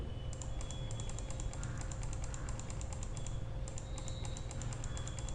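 Keyboard shortcuts are typed in the Word 2003 equation editor as a run of quick, light computer keyboard clicks. The keys are quiet and close, and a pause breaks them into two bursts with no speech.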